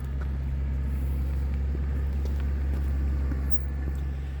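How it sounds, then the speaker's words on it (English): A car passes on a road as a steady low engine rumble and hum, fairly close and even throughout, with faint background rustle and no talking. "Had to wait for a car."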